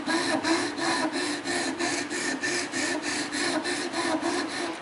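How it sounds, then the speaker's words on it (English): Rhythmic rasping strokes of a file cutting a flat spot into a PVC flute, about ten even back-and-forth scrapes, close and fairly loud, with no voices. "Place our file as close to 90 degrees as possible, and we want to file a flat spot"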